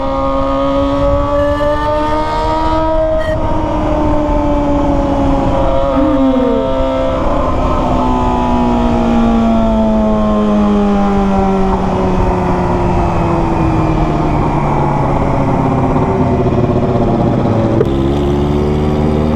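A Kawasaki ZX25R motorcycle fitted with a Toce exhaust rides through city streets, its high-revving four-cylinder wail climbing and dropping through gear changes, loud and close throughout, with a brief pause near the end.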